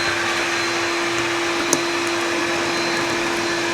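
A hot air heater blows steadily into a motorbike part with its filter removed, a loud, continuous whooshing roar throughout with one brief click partway through.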